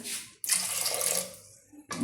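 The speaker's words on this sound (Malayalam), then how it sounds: "ഏകദേശം ഒരു രണ്ടര കപ്പ് വെള്ളം ഒഴിച്ചു കൊടുത്തു" Water pours steadily into a pressure cooker for about a second and a half, a close gushing splash that starts abruptly, tapers off, then briefly resumes, with no voices.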